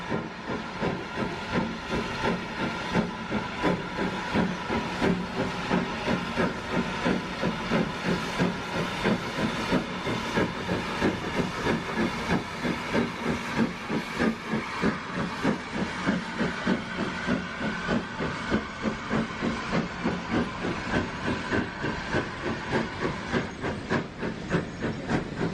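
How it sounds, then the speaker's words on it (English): LMS Black 5 steam locomotive 44871 climbs the stiff bank out of Keighley, a steady loud chuffing beat over continuous hissing steam that keeps up without pause throughout. "it shows the LMS 460 Black 5 Loco 44871 departing up the stiff bank out of Keithley."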